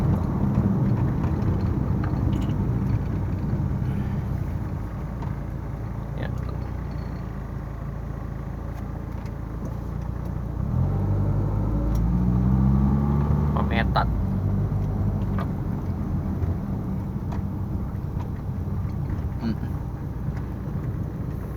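A Mitsubishi E-Car with a 4G63 engine converted to LPG injection idles steadily, a continuous low rumble with a brief rise partway through, while someone talks over it.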